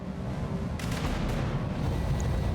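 Artillery fire in the mech combat game BattleTech, a dense rumbling barrage with sharp bursts of booms layered over a low continuous roar.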